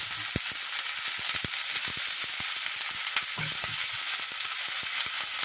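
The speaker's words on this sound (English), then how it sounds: "I'm going to stir fry this." Onions and escallion stir-fry in a hot pan, a steady loud sizzle with scattered crackles and pops throughout, no voices over it.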